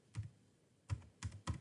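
Computer keyboard typing a short new folder name: four separate quick bursts of keystrokes, close and fairly quiet, with pauses between them and no talking.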